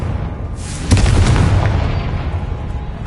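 The Confringo fire spell explodes in the game Hogwarts Legacy with one loud, booming blast, followed by a rumbling, crackling tail that slowly fades.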